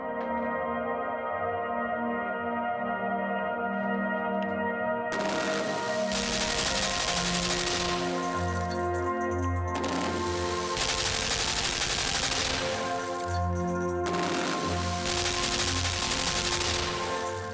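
Sustained bursts of automatic gunfire from a gun in the Limbo video game, three long rattling volleys separated by short gaps over a steady musical drone.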